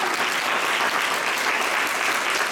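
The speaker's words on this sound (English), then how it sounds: "Let's give them a round of applause, please." An audience applauds mentors in a continuous, even burst of many hands clapping, dense and steady throughout with no voices standing out.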